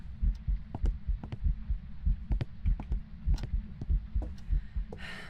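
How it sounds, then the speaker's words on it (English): A ghost's heartbeat in a ghost-hunting video game, steady low double thumps pulsing under a constant hum, with brief clicks on top and a short burst of hiss at the end. "I heard the heartbeat"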